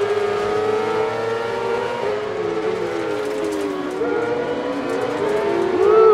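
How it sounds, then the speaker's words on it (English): Simulated rallycross engines from Dirt Rally 2.0, an F1-style go kart racing at Hell, Norway, rev loudly and continuously, their pitch rising and falling through gear changes with no pause across the whole stretch. "I could barely hear the guy talking with all these cars just revving like crazy"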